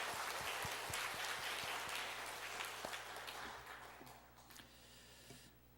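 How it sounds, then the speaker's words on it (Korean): A church congregation applauding during a Sunday service. Broad, sustained clapping from a crowd fills the room, then gradually thins and fades toward the end. "찬양으로 영광 받으신 하나님께 우리 다시 한번 큰 박수로 영광 올려드립시다"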